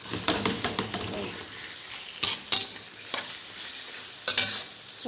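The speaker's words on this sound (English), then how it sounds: "Just stir this, and you need to simmer it until all the juices from the chicken will come out." Chicken varuval being stirred as it fries in a pan, with a soft continuous sizzle and a series of sharp scraping and clinking spoon strokes against the pan at irregular intervals.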